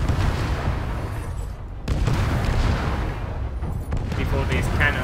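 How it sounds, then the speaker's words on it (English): Cannons fire in a video game as a dense run of heavy, rumbling booms and blasts, loud and close, with brief gaps between bursts. "Before these cannons blast me to pieces."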